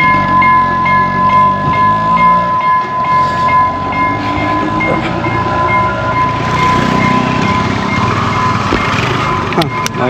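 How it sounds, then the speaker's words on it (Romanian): A train rumbles past near a road between Galle and Bentota in Sri Lanka, a loud continuous rolling roar with clattering wheels and a sharp horn-like accent near the end. "Trece trenul."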